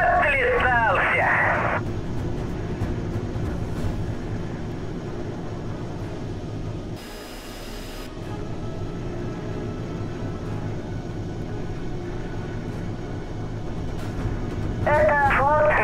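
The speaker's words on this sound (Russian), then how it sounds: "Фокстрот, внимание, приближается звено перехватчиков." Aircraft engine drone from the video game Echelon, as a flight of interceptors approaches, a steady broadband roar that holds throughout under game radio chatter and voices.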